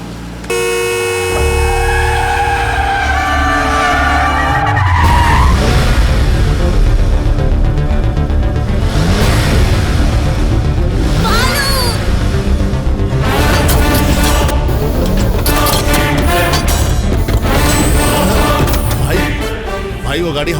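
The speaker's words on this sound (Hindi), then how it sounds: "भाई वो गाड़ी हमारी तरफ ही लेकर आ रहा है" A car speeds and skids toward onlookers in a Hindi-dubbed action movie scene, with loud, sustained engine roar and repeated horn blasts throughout, plus voices in the mix.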